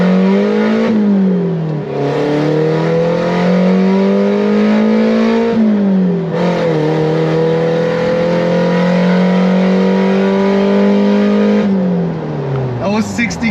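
Mitsubishi Pajero Mini driven at full throttle, its small engine revving loudly up through the gears with clear rising pitch sweeps and brief dips at each shift, close and continuous.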